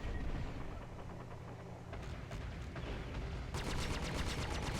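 Rapid bursts of gunfire in the Star Citizen space game ring out around a ship under attack, a steady rattle that grows denser and sharper near the end.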